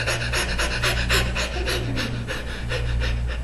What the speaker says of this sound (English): I think I'll breathe real fast.